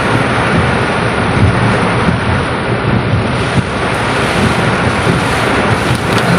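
Steady, dense wash of heavy rain pours without pause during Typhoon Carina, loud and close with gusty wind buffeting the microphone throughout.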